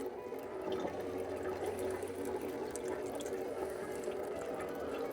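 A portable van-life shower running steadily, an even hiss of spraying water at moderate pressure that carries on without a break, with no voices over it.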